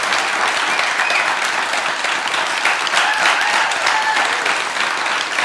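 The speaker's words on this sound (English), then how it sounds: "please just give a round of applause for Tim Ballard" A studio audience applauds Tim Ballard on a podcast with steady, dense clapping that stays loud and even throughout, without talk over it.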